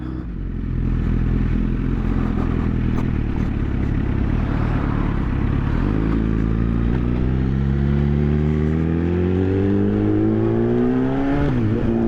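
A Yamaha FZ1N motorcycle pulls hard in first gear on the A760 road over the braes toward Kilbirnie, its engine note rising steeply in pitch as it revs up, loud and close, then briefly dropping before climbing again.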